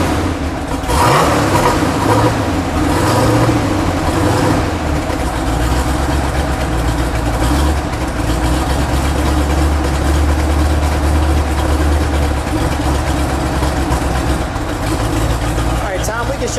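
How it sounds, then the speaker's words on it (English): A 1970 Plymouth Superbird's 426 Hemi V8 idles with a steady low rumble, rising into a few revs early on, then holding a constant deep drone with voices faintly over it. "Let's give it a little rev."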